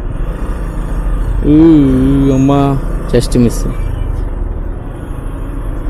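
Dense road traffic in Saudi Arabia passes while riding a motorbike with ABS brakes, a steady engine and wind rumble under a man's speech, with a horn-like tone briefly rising above it.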